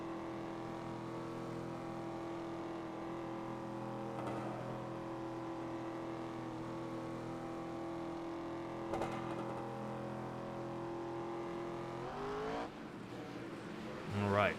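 Race cars at Kern Raceway in an SRX Series race drone steadily with layered engine tones, then a louder surge of revving near the end as the field accelerates away.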